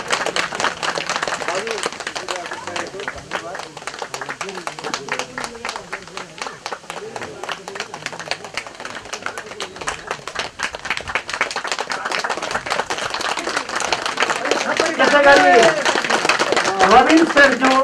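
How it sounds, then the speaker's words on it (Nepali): A crowd claps through an honouring ceremony at a Shrimad Bhagavat Purana gathering in Listikot, Sindhupalchok. The clapping is dense and continuous and swells toward the end, with voices talking over it. "ताली बजाऊ सबैले, ताली बजाएर।"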